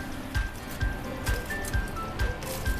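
Japanese-style pork steak simmers in liquid in a frying pan, probably under foil, giving a steady soft bubbling hiss with regular low pops roughly every half second, close and continuous, no talk.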